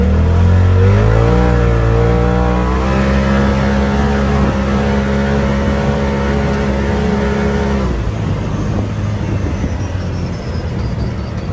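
A Polaris RZR Turbo S engine revs hard and climbs steadily in pitch to a loud sustained peak near 8,400 RPM, then drops off abruptly and settles into a lower rumble.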